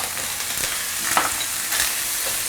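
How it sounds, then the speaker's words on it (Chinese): Minced beef stir-frying in a wok with Sichuan pepper oil, minced ginger, garlic and dried shallots, a dense, steady sizzle broken by soft scraping stirs throughout. "牛肉末炒散之后，它在出油之后呢，我们沿着锅边喷点花椒油、 姜米、蒜米还有干葱末，我们给它炒香一下"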